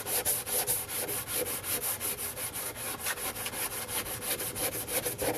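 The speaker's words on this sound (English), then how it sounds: "I put some 80 grit paper on the sanding board and did another round by hand" Hand sanding a wood strip boat hull with 80 grit paper on a sanding board: quiet, rapid rhythmic back-and-forth scraping strokes, evenly repeated, close up with no voices.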